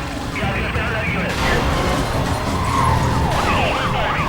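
Wailing police car siren in the Need for Speed Most Wanted video game, rising and falling over engine and road noise from a chase, while someone talks throughout.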